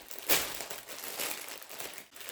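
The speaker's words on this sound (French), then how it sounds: "la matière, vous pouvez largement l'entendre, je pense, dans le micro, est en plastique" Close crinkling and rustling of a plastic mailer, a sharp crackle at first, then softer continuous crumpling.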